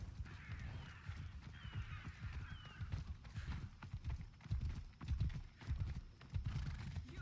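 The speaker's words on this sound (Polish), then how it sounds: "Koń za nami nie nadąża." A horse gallops in Assassin's Creed Odyssey, its hooves clip-clopping in a steady, loud rhythm throughout, with a brief whinny-like sound early on and game ambience beneath.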